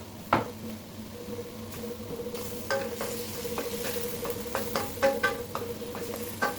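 Steady sizzling of garlic in a hot frying pan with occasional stirring clinks and scrapes, close by and fairly quiet, no voices.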